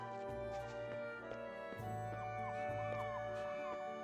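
Dog in the Ys I game yelping and howling in short cries over steady looping background music, moderately loud.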